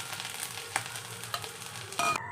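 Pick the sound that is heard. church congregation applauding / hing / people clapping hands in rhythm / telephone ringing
hing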